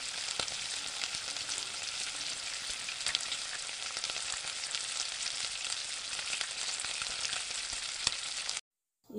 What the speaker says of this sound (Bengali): তারপর ভালো করে কষিয়ে নিলাম লাল লাল করে।